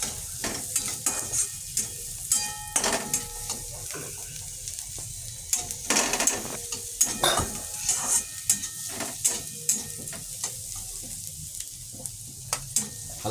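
Diced carrots sautéed in a pan for cream of chicken soup, a steady close sizzle broken by frequent clinks and scrapes of a utensil against the pan as they are stirred.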